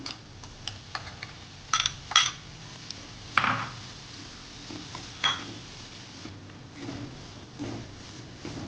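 A spoon scrapes and clinks against a pan as chopped jaggery melts in ghee while being made into sesame chikki, sparse light taps and scrapes spaced out over quiet stretches.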